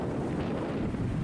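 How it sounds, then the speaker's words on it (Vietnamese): Strong wind roars and buffets the microphone at a harbor mouth in force 6 to 7 conditions, a dense continuous rush with waves churning underneath. "Hôm nay gió sóng gió ngoài cửa cảng cũng cấp 6 cấp 7 các bạn."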